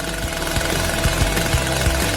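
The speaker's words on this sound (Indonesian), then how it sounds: "Oh, gergaji mesin itu pasti akan membantuku." A chainsaw runs loud and close in a toy dollhouse-building scene, its engine chugging in a rapid, rough rhythmic pulse that stays steady throughout with no voices.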